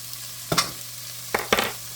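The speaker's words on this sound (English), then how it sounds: "I'm going to go ahead and get that sauteed" Minced garlic sizzles steadily in a hot pan, broken by a few sharp scrapes of a utensil stirring it.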